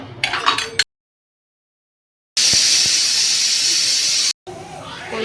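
Loud, steady steam hiss from a pressure cooker of chickpea curry lasting about two seconds after a silent gap, bracketed by brief muffled sounds before and a short hiss-like noise after.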